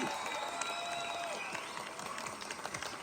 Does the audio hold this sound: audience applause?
yes